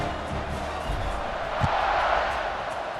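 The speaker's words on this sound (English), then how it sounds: "this crowd is buzzing after that last score" Stadium crowd in the College Football 26 video game buzzing after a score, a steady dense roar of cheering and murmur with a faint thump partway through.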